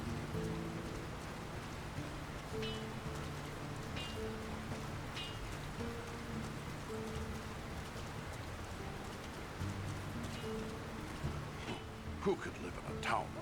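Steady rain falls on a town in The Lord of the Rings: War in the North, a constant hiss with faint game tones beneath, and a voice speaking over it in places.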